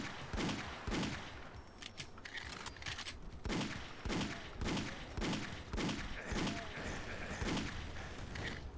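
Enemy gunfire in Doom 2, a run of sharp shots repeating about every second at moderate distance, with occasional thuds and no talk over it.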